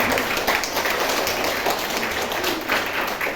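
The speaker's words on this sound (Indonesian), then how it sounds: "Tepuk tangan dulu buat kita semua." Applause from a school audience at an Islamic vocational high school event, dense continuous clapping filling the room at a steady, fairly loud level.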